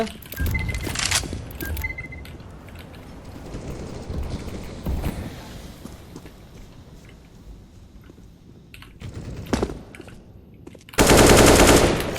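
Bursts of rapid automatic gunfire in the video game CS:GO crackle in short volleys between quieter gaps, ending with a loud sustained blast of noise; no one speaks.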